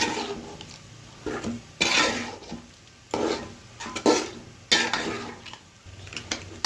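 A spoon stirring chili powder and cumin powder in a pan, with repeated bursts of scraping and clinking against the metal and a faint sizzle between strokes, close and alone.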